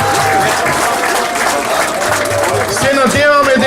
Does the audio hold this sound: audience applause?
yes